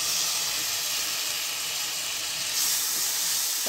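Tomatoes with carrots sautéing in a pan for samba rava upma, giving a steady close sizzle and hiss throughout with no talking.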